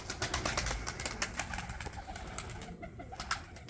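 Pigeons coo repeatedly at close range over a busy outdoor background, with the low, throaty calls recurring through the whole stretch.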